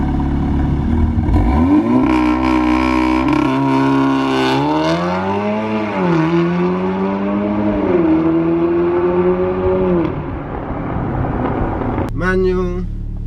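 A 380bhp Volkswagen Golf R launching and accelerating hard, engine pitch climbing through several gears with short dips between shifts, loud and close, ending in a sharp burst.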